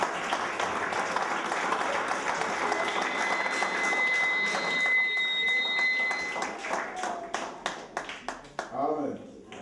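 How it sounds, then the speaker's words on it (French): A church congregation bursts into dense, sustained applause with shouting voices, then the clapping thins into scattered individual claps and speech near the end. "Acclamons très fort la parole."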